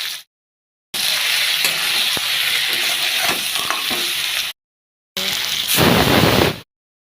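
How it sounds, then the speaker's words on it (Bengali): An okra, potato and fish curry boils hard in a pan, a loud, steady sizzling and bubbling hiss that cuts off abruptly, then returns briefly. "তরকারিটা ফুটছে খুব ভালোভাবে"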